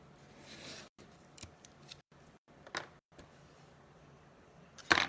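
Packing tape pulled and pressed along the top and outer edges of a cardboard box, heard as a few short, sharp rips and scrapes, with a louder tearing burst at the end, all close by with no talk.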